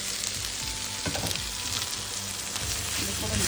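Ladies finger sautéing with spice powder in a pan, a continuous close hiss of frying broken by spatula stirs and scrapes, steady and fairly loud.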